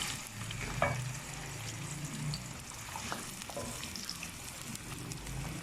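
Onions frying in hot ghee for tikka keema, a soft continuous sizzle with faint stirring and clinks, fairly quiet and steady, no talking.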